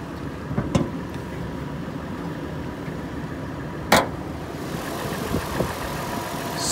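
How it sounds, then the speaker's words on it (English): A Toyota 4Runner SR5 4x4 engine idles steadily in a low, even rumble, with a couple of sharp clicks breaking through partway. "Sounds good, no knocking or ticking in the engine."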